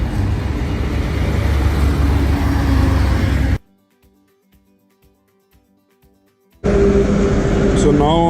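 Heavy road traffic near a metro station, a loud continuous roar of passing cars and buses, cuts to near silence for about three seconds before resuming just as dense.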